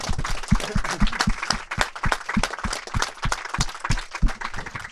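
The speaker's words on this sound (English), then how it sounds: "And I think we should give them a round of applause." An indoor audience breaks into applause, a dense, steady patter of many hands clapping throughout.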